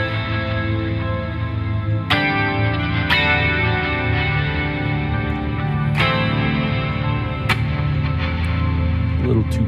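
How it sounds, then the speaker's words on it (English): Electric guitar run through a mood reverb set to its highest clock setting, a few firm strums spaced apart, each ringing into a smooth, fairly natural-sounding reverb tail. "this mood reverb on the highest clock setting sounds pretty natural to me"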